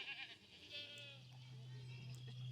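Goats bleat on a farm, a soft wavering call rising over quiet barnyard ambience, fairly faint and alone without talk.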